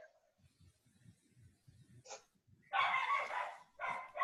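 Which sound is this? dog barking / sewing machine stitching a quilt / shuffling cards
dog barking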